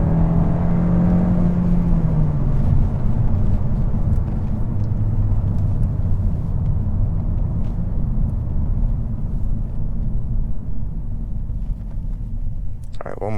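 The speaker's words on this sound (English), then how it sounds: "Front wheel peel, yeah." A 2023 Kia K5 GT Line in sport mode pulls away hard with front-wheel peel. A loud, steady engine drone and road rumble build and hold close by for about thirteen seconds, and the tone rises slightly at the start.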